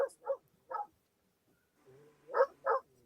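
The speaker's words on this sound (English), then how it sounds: "Them dang dogs out there." Dogs bark outdoors at a moderate distance: three quick barks, a short pause, then two more, with nothing else in between.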